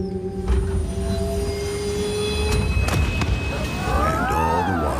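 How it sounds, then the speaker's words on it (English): A train sound effect in an audio advertisement: a loud, close rumble of wheels on rails with a sustained metallic squeal, clattering joints, and rising squeaking tones toward the end. "And all the while, you were on the train home."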